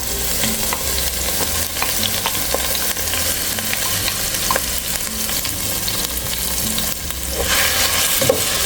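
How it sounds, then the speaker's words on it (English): Steady loud sizzling of rice frying in hot oil for Mexican red rice, with occasional scraping and stirring noises throughout. "So we're gonna start frying the rice and then put the sauce in there."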